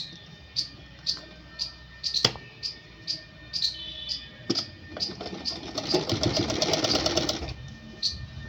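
A sewing machine stitches a woman's suit in short bursts: a near, rhythmic ticking of individual stitches at first, then a faster, denser whirring run before slowing to a few final clicks.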